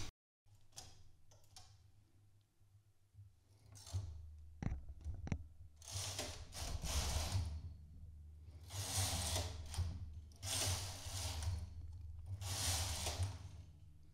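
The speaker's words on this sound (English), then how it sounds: "I will pull the needles all the way out and knit four rows." A domestic knitting machine knitting four rows, the carriage swept back and forth in repeated whirring, clattering passes with short pauses between, faint and mechanical with no talk.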